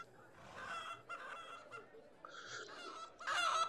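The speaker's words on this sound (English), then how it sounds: "Here we are in Crazy Saloon, and there's chickens everywhere." Game fowl in the VR title Crazy Saloon, heard as chickens clucking and squawking in short bursts, bright and fairly close, several calls overlapping, some rising into honk-like cries near the end, with faint background murmur.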